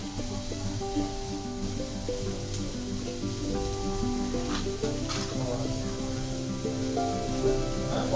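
Food sizzles and fries in a pan in a home kitchen, a steady, quiet hiss with occasional scraping and clinking as it is stirred. No one speaks.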